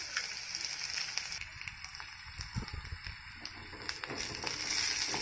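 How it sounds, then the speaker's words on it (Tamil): Chopped onions sautéing in a pan with neem leaves for a radish poriyal, a steady close sizzle and crackle of frying with faint stirring sounds, no voices. "வெங்காயம் லைட்டா வதங்கட்டும்"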